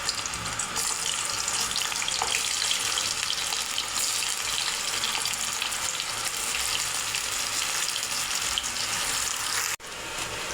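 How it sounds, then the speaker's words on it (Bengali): Paneer pieces fry in hot oil in a pan, giving a loud, continuous crackling hiss that carries on almost unbroken and dips briefly near the end. No one speaks. "তো এখন আমি পনিরগুলো ভেজে নেব।"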